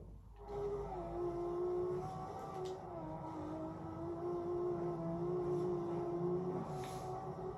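A sports car engine in Forza Horizon 2 drones at a steady, slightly wavering pitch, a sustained synthetic-sounding hum at moderate volume with no talking.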